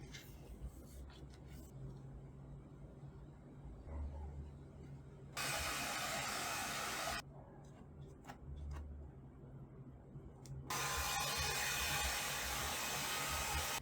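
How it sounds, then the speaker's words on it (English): A heat blower seals vinyl wrap skin onto a Steam Deck in two loud, steady bursts of blowing hiss, separated by quieter handling sounds. "Let's go ahead and seal them with some blower."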